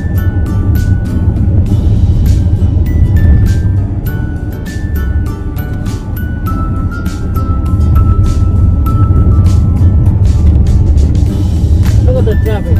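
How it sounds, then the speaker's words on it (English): Traffic on Interstate H1 East heading towards Waikiki, heard from inside a car as a steady low road rumble and engine drone with brief tonal chimes, constant and fairly loud throughout. "Look at the traffic."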